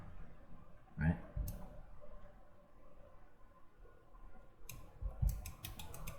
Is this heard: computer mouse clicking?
yes